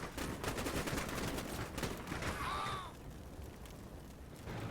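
Rapid bursts of small-arms fire crackle through a Cold War tactical wargame skirmish between a scout team and Soviet infantry, dense overlapping volleys fading after a couple of seconds into quieter rumbling battle ambience.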